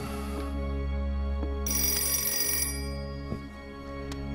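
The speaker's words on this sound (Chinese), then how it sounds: "一定是严寒来电话了" A telephone rings indoors with a steady, tonal electronic trill, repeating bursts over a low hum, with faint room noises around it.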